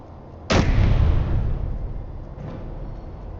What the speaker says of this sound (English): I'm gonna need to blow up that military checkpoint.